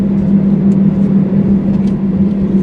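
A car drives through the neighborhood streets of a small Wisconsin town, with a steady, loud engine and road hum rolling on without pause and no voices.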